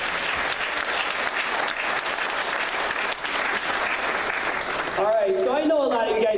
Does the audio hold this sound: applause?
yes